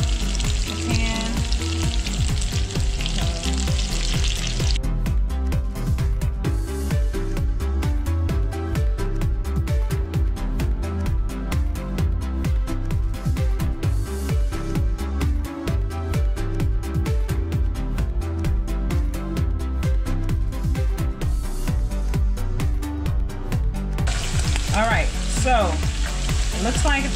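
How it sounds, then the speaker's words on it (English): Scallops sear in an uncrowded pan with a loud, continuous sizzle that holds steady for nearly half a minute over background music. "I'm gonna go ahead and start searing the scallops"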